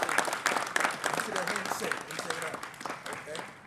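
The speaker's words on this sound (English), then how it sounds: "Round of applause." A round of applause from an audience at a keynote symposium honoring a young interviewee, dense steady clapping mixed with voices, fairly close and holding for several seconds before thinning out.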